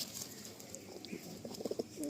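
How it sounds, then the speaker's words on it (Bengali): Pigeons in a loft at Sodepur, near a station, coo softly in a faint, low murmur, with a few throaty coos bunched toward the end. "এখানে তো 20 পিস মতো পায়রা রাখা আছে, আরও লফটে 20-30 পিস পায়রা এরকম রয়েছে।"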